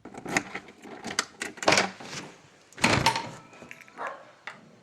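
A few short dog barks and woofs mixed with thumping, door-like knocks, fairly quiet and uneven, without speech.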